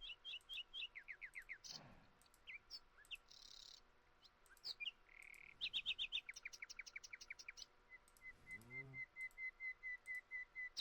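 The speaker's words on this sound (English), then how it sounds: "Well, that bird's fucking annoying." In a modded Minecraft game, a bird chirps over and over in quick whistled trills and repeated notes, fairly faint, with a few short whooshing sounds between the calls.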